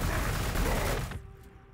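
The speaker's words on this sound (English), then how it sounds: "You're gonna take Overwatch fire" Overwatch gunfire in the strategy game Warhammer 40,000: Gladius, a dense burst of rapid game shots that stays loud for about a second and then cuts off, leaving a faint ringing tail.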